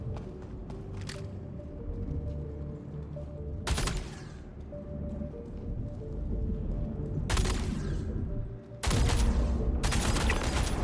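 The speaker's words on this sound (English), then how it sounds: "Just sniping me with a shotgun from over there." Shotgun blasts in the video game Star Citizen, several loud sharp reports spaced irregularly over a steady background rumble, with one double burst near the end.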